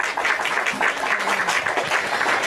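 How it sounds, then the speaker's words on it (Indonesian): An audience claps in applause for a discussion guest, a dense even patter of many hands lasting a couple of seconds with faint voices mixed in. "Kita bikin dulu tepuk-tepuk tangan dulu untuk saudara kita muslim ini."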